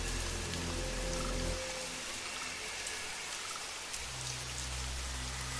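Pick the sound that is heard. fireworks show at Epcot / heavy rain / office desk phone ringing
heavy rain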